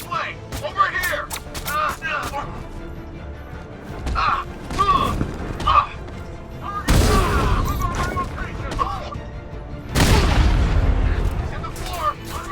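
Grenade blasts in Batman: Arkham Knight, played on Xbox Series S: two heavy booming explosions, one near the middle and one later, over a busy game scene with scattered shots and voices talking.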